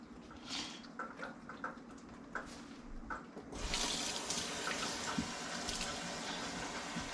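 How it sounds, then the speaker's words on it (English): Cold tap water runs over a whole chicken, starting in light, broken splashes and then opening into a fuller, steady stream gushing into the sink. "Always rinse your bird out really good with cold water"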